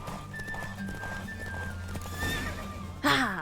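A racehorse in The Witcher 3 video game gallops with continuous clip-clop hoofbeats, then lets out a loud whinny near the end, with game music underneath.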